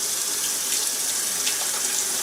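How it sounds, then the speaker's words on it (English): Cold water runs from a sink tap over a raw whole chicken being rinsed, a loud, steady hiss and splash with no pause, close by and without any talking. "give it a good rinse under the sink with some cold water"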